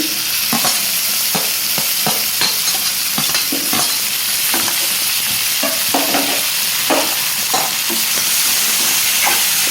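Cucumber pieces and tomatoes fry in a pan for a dry fish curry, producing a loud, continuous sizzle and hiss. Repeated scraping and stirring strokes from a spatula cut through it at an irregular rhythm, all close up.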